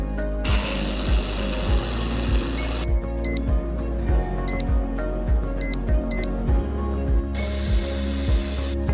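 A 1200W air-cooled welding machine welds galvanized square steel, giving a steady electrical hum with rhythmic ticking pulses and two long, bright hissing bursts of welding. It is close and unaccompanied by speech.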